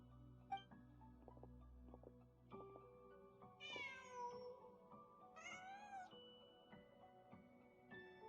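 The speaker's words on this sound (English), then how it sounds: "Just a cat." A cat in the Genshin Impact video game meows twice in drawn-out, wavering calls over soft ambient game music and background tones.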